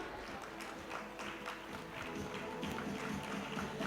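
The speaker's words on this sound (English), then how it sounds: "Big round of applause." Audience clapping at an award moment during a FICCI FLO Indore event, a steady wash of many hands applauding together at moderate distance, holding even and unbroken from start to finish.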